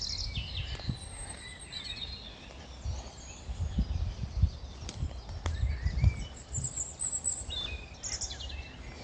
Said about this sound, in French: on entend pas mal de mésanges.